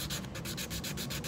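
Painted tin jewelry being sanded by hand with quick rhythmic back-and-forth strokes, a steady close scratching rasp that runs continuously with no talking.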